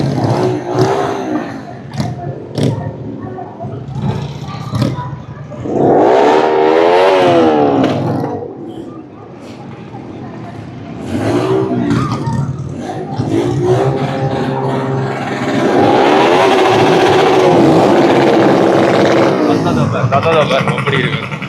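A motorcycle engine revs in loud bursts in Jaffna, rising and falling several times, with people talking and crowd chatter mixed in.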